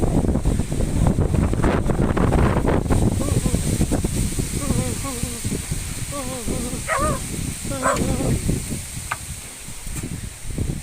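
Steady wind blowing and buffeting a nearby microphone, with people talking over it and a dog barking briefly.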